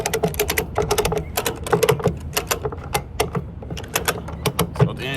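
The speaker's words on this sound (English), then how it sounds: "all you're going to do is start cranking from here." A ratchet strap is cranked to tighten down a tarped load, producing rapid, sharp clicking bursts in uneven repeated runs, close and crisp, with no talk during the clip.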